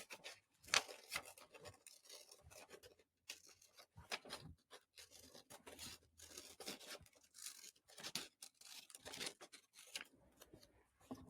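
Scissors snip along the red lines of a printed paper DNA origami model, with a quiet, close series of irregular cutting and rustling sounds and short pauses between the cuts.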